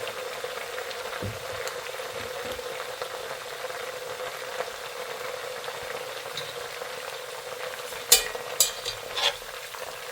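Meatless borscht being stirred in a pot, with a steady low sizzle and bubbling throughout, soft scraping of the spoon, and a few sharper clinks near the end; no one speaks.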